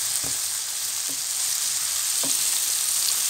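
Spring onion and leek sizzle steadily in a pan as they sauté, a constant bright hiss with a few soft stirring knocks.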